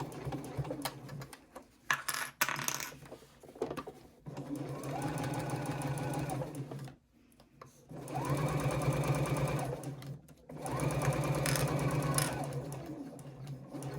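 A sewing machine back-stitches along a triangle pouch seam in three long, steady motor runs broken by brief pauses and clicks, close and clear, with no talking.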